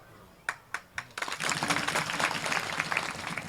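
A crowd at a Marathi spiritual discourse starts with a few separate claps, then breaks into dense, sustained applause filling the hall.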